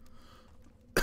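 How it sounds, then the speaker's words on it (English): A single sharp cough from a person with a sore throat, short and close, ending the clip after quiet room tone. "I am sorry about the coughing."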